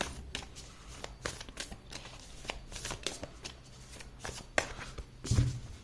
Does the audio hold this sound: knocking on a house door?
no